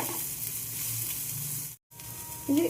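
Ground turmeric and cumin sizzle and fry in hot oil in a home kitchen pan, a steady close crackle that briefly cuts out, then resumes with a light clink of stirring near the end.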